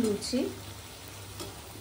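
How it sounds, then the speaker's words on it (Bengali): Luchi flatbread fries in hot oil with a steady, close sizzling hiss and a brief faint voice at the start. "লুচি ভাজছে"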